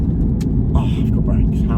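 An Audi TTS 2.0 Quattro drives along with a steady low engine and road rumble, picking up a little speed, while a voice speaks briefly over it.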